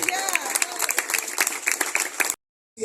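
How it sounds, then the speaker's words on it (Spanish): A church congregation claps and applauds steadily for a couple of seconds during a sermon, then the sound cuts off abruptly into silence. "Denle un aplauso a Dios."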